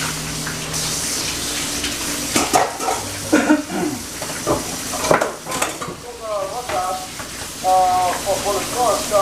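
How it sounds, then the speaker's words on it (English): Pork chops frying on high heat in a home kitchen, a low sizzle beneath clinks and scrapes of pans and utensils, with people talking nearby. "the pork chops are frying on a high heat right now"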